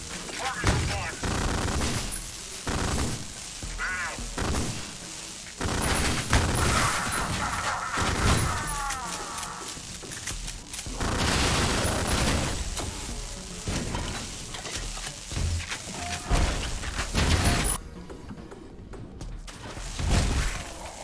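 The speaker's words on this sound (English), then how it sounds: "Exploding grenades right in your face, a classic." Grenades going off in the retro shooter Ion Maiden: repeated close, loud blasts and crashing bursts spread over about twenty seconds, with shattering debris between them and a short quieter gap near the end.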